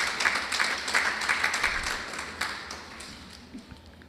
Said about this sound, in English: Give yourself a applause.